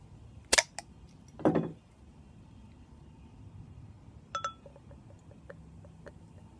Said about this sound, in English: So let's crack it. Put it in the glass.